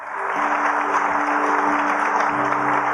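A church congregation breaks into steady, dense applause that rises quickly and holds loud and close, with a sustained tone ringing underneath.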